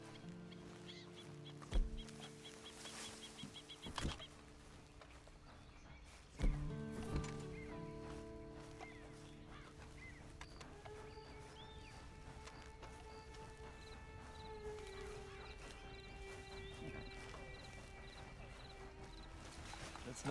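Sparse hoof clops and horse snorts in Red Dead Redemption 2's online mode, quiet and intermittent, with a few sharp thumps and a tonal game score underneath.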